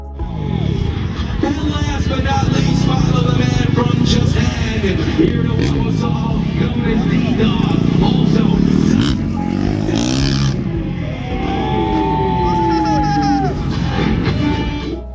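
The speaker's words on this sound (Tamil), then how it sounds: "கொஞ்ச நேரத்துக்கு அப்புறம் பைக் ஷோவும் தொடங்கியாச்சு." Motorcycle engines rev and roar at an evening stunt bike show in Abu Dhabi. The revs rise and fall loudly through the clip over crowd noise, with voices and children's laughter mixed in.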